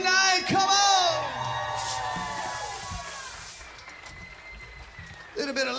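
A rock concert crowd whoops, yells and cheers loudly for the drummer of a cover band, the roar swelling early and fading under ongoing noise before picking up again at the end.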